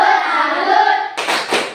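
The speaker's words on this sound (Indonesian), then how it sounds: "Kita tepuk salut untuk kelompok Pancasila." A standing school group gives a rhythmic salute clap for the Pancasila team: a sung or chanted voice carries the first half, then a burst of sharp group hand claps in quick patterned beats.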